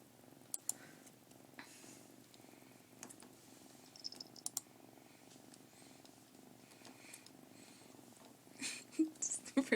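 A cat purrs continuously up close, a low steady rumbling drone with a few soft ticks and small knocks over it, growing slightly louder near the end.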